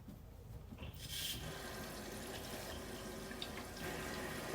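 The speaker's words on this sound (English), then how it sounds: "And so I am going to just turn on the water." A water tap is turned on to feed an iSpring RCC7 reverse osmosis system. Faint, quiet flow starts after about a second, then settles into a steady rush and trickle.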